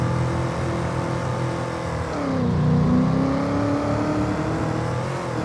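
Simulated vehicle engine in the video game Farming Simulator 25, played on the Elmcreek map, drones steadily and then revs up and back down with a rising and falling pitch, loud and continuous, with no talking.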